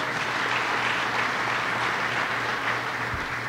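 A crowd gives a round of applause during a governor's announcement event in Rochester, the clapping continuous and even, thick and sustained from start to finish with no pauses.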